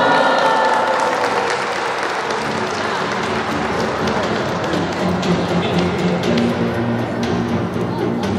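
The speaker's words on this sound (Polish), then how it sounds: "Poprosimy o wielkie brawa." Sustained applause from an audience at an award ceremony closing a youth dragon tournament, loud and dense with crowd noise, steady throughout.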